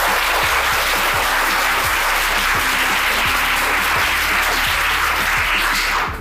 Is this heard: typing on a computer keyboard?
no